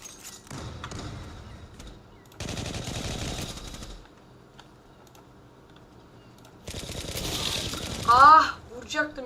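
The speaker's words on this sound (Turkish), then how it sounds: "Şimdi ben onları silahla öldüreceğim." Bursts of automatic gunfire from the online shooter Zula come in three separate volleys of rapid shots with quiet gaps between them, followed by a brief electronic sound at the end.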